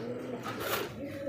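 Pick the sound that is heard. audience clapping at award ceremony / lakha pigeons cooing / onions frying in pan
lakha pigeons cooing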